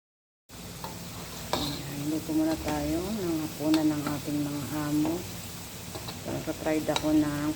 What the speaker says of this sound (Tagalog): magpa-fry tayo ng fresh potatoes